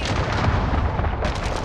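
Artillery fire rumbles as a continuous heavy barrage in Call of Duty: Modern Warfare multiplayer, loud and dense throughout, with a sharper crack near the end.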